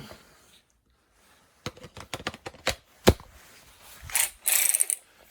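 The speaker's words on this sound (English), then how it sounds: "I go to town with a 3/8 inch ratchet" A 3/8 inch ratchet clicks in quick bursts while working a Ford spark plug repair tool. The clicks are close and sharp, followed by a louder clunk and some scraping, metallic handling noise, with no talking.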